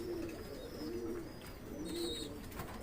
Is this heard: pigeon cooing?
yes